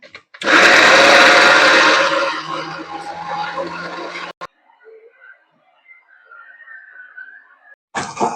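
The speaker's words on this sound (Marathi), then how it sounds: "तर मिक्सरला थोडस भिंगून घेतलं बघा. तर म्हणजे ठोसर मसाला निघलेला आहे पण थोडं पाणी टाकून आपल्याला थोडा बारीक असा मसाला काढून घ्यायचा" A mixer grinder roars loudly as it grinds masala with water, a harsh whirring burst that runs a few seconds then cuts off, followed by quiet with faint sounds before another brief start.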